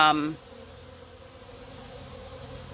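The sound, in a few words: honey bees and yellow jackets buzzing at a feeding site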